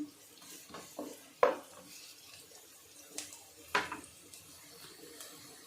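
Carrot and onion pieces frying in a pan and being stirred for pasta, a faint low sizzle broken by several sharp scraping clacks of a utensil against the pan.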